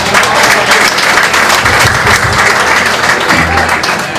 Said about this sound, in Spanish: Un aplauso a las mujeres hermosas